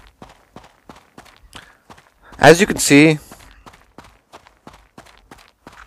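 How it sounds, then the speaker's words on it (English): Footsteps crunching over gravel on the Raid map of the mobile shooter Critical Ops, a steady series of short, evenly spaced steps heard close, with a brief burst of talking in the middle. "it makes a very specific sound when you do walk on gravel on the map of Raid"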